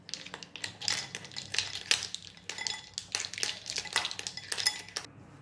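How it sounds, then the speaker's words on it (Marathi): Rapid, steady clinking of a whisk against a bowl as ghee-derived butter is beaten over ice at home, a busy rhythmic metallic scraping with no talk. "आता हे सारखं असं फेटत राहायचं आहे। हे परत या बर्फावर घालून घ्यायचं आहे।"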